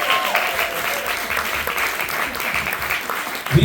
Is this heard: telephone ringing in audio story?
no